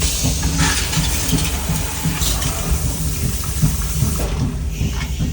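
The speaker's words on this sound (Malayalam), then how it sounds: "അതങ്ങനെ അങ്ങോട്ട് ഫ്ലഷായി പോകും" Loud gushing rush of a toilet flushing, a continuous churning swirl that holds steady for several seconds.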